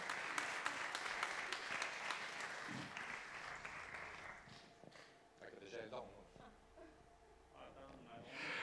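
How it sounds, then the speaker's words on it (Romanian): Audience applause at a live talk event, lively clapping at first that fades after a few seconds, followed by quieter rustling, shuffling and faint voices in the room. "aplauze, vă rog!"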